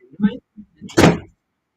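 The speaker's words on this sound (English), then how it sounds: "I'm going to close that door because it's just going to make more and more noise" A door pulled shut nearby in a room, one solid thud after a few softer rustling bumps.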